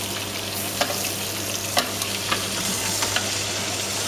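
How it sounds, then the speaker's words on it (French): Butter sizzles and fries steadily in a pan as meat is basted, with soft spoon clinks and scrapes standing out at irregular moments over the constant close hiss; no one talks. "arroser la viande aussi à chaque fois"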